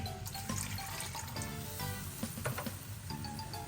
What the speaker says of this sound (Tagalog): Lagyan din po natin ng kaunting tubig.